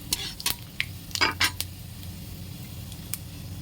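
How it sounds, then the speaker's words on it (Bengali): Bay leaf, dried chilli and cumin tempered in hot oil in a wok, with a soft sizzle beneath a few sharp metallic clinks and scrapes of a utensil against the pan near the start. "কড়াইতে তেল গরম হয়ে গেছে, তেজপাতা, শুকনো লঙ্কা আর জিরে ফোড়ন"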